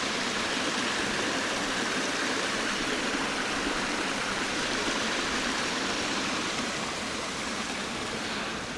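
A small forest waterfall rushes steadily and close by. Its dense, even roar of falling water runs unbroken, with no voices or other sounds above it.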